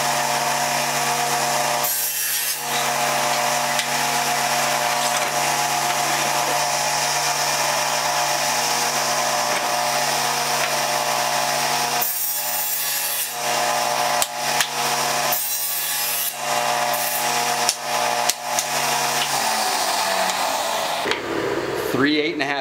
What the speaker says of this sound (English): then we'll cut 2 inch strips out of it until we have three of those